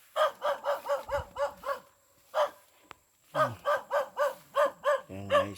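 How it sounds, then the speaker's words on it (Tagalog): A dog barks repeatedly in quick loud bursts, two rapid runs of about six to seven barks separated by a single bark, with a low whine or growl near the end; no talk over it. "Yan yung aso namin, si Tiger"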